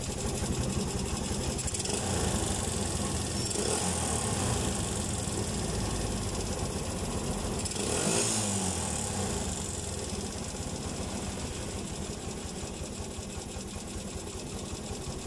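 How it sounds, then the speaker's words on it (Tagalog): A Suzuki Mola 125 motorcycle engine, rebuilt but still noisy with a low idle, runs continuously nearby with a rough, clattering mechanical rattle and a steady buzzing drone, no voices. "Ingay pa rin yung tunog ng makina natin kahit ang dami na napalitan."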